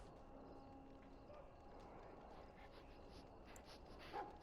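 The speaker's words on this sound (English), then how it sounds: "I can hear dog noises." Dog barks and whimpers from the video game Dragon Age: Origins, heard faintly at moderate distance within a steady, busy bed of game ambience, with a brief louder yelp near the end.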